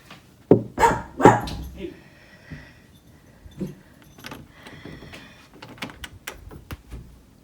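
A puppy barks in a few loud, close yaps at the start, followed by quieter household clatter like a door and jingling keys.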